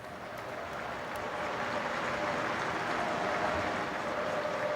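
Sustained applause from a stadium crowd at the Emirates, a dense, even wash of distant clapping that swells slightly and holds steady without voices standing out.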